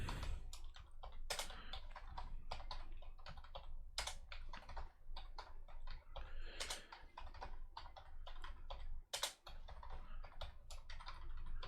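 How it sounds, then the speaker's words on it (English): Dense, steady keyboard typing with many quick key clicks and occasional sharper spacebar or enter strikes, close and fairly quiet, with no voices. "I quite like typing things sort of line by line because it slows me down enough to be thinking about what I want to do next"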